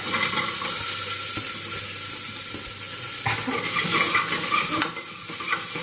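Chopped medium onion and green chili frying in a hot pan, a loud continuous sizzle with stirring scrapes and a sharper burst of crackle near the end, no voices.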